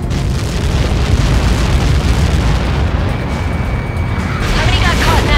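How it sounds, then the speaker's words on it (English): A Helios missile detonates on impact in the Ace Combat 7 flight game, giving a loud, sustained roaring blast that rumbles on for several seconds. "How many got caught in that explosion?"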